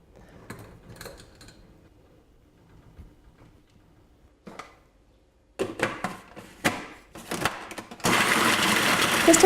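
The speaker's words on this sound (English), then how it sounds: "Just another thing that's good to know while this is blending up." A blender runs loud and steady through the final stretch, blending soaked dates, after scattered clatter and kitchen handling noises.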